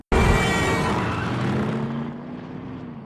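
A car roars up suddenly on a road, loud and close, its engine note sliding lower and fading over a few seconds as it speeds away.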